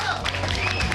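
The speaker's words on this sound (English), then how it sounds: "Round of applause." A brief burst of dense clapping from a crowd at a Combat Arms esports grand final, steady and loud throughout the short moment.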